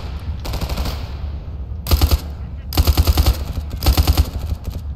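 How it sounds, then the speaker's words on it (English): Automatic gunfire in S.T.A.L.K.E.R. Anomaly: rapid bursts of loud shots in several separate volleys, each a dense rattle of cracks, with quieter distant firing between them. "Already got gunfire going off, that's great."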